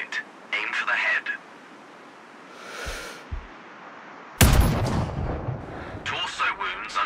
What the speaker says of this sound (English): Now, shoot this target. Aim for the head.